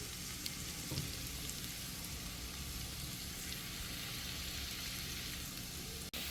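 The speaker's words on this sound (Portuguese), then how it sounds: "A cebola tá fritando." Onion frying in a pan as the base for shiitake risotto gives a steady, soft sizzle and crackle that holds evenly throughout, broken by one brief click near the end.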